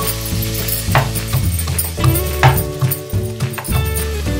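Crushed garlic dropped into hot oil for a Tamil mutton liver and fat soup, giving a loud continuous sizzle with clinks of a utensil against the pan and stirring noises.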